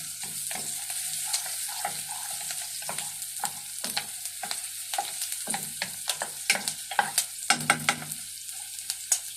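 Onion being stir-fried, a steady low sizzle punctuated by repeated sharp scrapes and taps of a spatula against the pan, quickening into a flurry of close strokes near the end.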